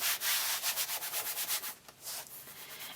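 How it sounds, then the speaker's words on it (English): Fabric laid face down gets rubbed onto a sticky Cricut cutting mat by hand, a quick series of close, rhythmic swishing strokes that stay fairly loud, with a brief pause before a few more strokes. "Rub a little bit to put it in place."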